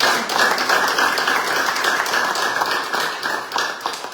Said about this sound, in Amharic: ደግማችሁ አጨብጭቡላት።